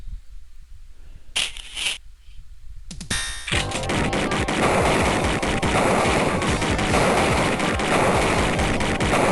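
Gunfire from the Sega/Mega CD game Snatcher: a couple of isolated sharp blasts, then a dense, continuous barrage of rapid shots and crashing impacts that stays loud to the end.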